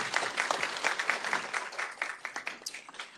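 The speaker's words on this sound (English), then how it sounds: "You need deserves applause, please" Audience applause at a community college town hall meeting, a fairly dense patter of many hands clapping that thins out toward the end, moderately distant in a large room.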